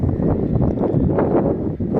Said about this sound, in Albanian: fryn një erë, një fllak i freskët.